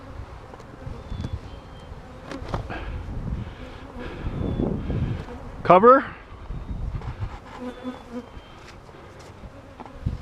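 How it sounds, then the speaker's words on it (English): Bees from a newly installed nuc hive buzz around the microphone, a close humming drone that swells and fades as they pass, with a person speaking briefly and a loud brush of handling noise midway. "these bees fly, go home"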